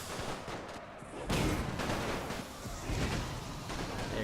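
Close-range gunfire in a Great War mod of Napoleon Total War, with a quiet stretch of scattered cracks giving way to a sudden loud burst of overlapping shots and a rumbling roar that rises again later.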